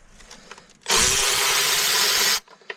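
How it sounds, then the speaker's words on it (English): Power tool spinning out intake manifold bolts on a 2013 Chrysler Town & Country; one loud, steady whirring burst of about a second and a half, close by, with quiet workshop clatter before and after. "We're just going to go ahead and start taking our bolts out."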